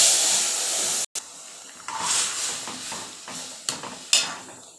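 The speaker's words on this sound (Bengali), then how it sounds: "জিরে কালো হয়ে গেছে, এবার এর মধ্যে তরকারিটা ঢেলে দেবো আমি।" Potato curry tipped into hot oil with blackened cumin and mustard seeds: a steady hiss, a brief gap, then bursts of sizzle and steam with pot scrapes and stirring, close and fairly loud.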